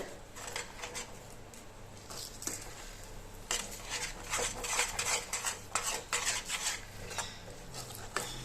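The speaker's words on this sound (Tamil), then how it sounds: "மாவு சேர்த்துட்டு லோ ஃப்ளேம்லேயே வச்சு நல்லா வதக்கி விடலாம்" Parboiled rice flour dough stirred in a pan over a low flame, a close, busy run of metal spoon scrapes and clinks against the pan over a faint background hiss, no speech.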